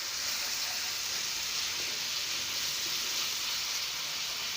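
Softened tomatoes and green chilies frying in a pan over the flame, giving a steady, even sizzle that stays close and fairly loud throughout, with no talk.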